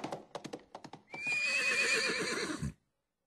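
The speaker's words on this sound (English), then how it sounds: "The sound of the horse was very clear" A horse gives a loud, close whinny lasting over a second, preceded by a quick run of clip-clopping hoof strikes, then silence.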